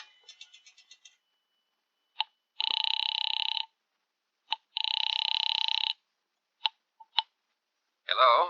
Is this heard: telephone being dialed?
yes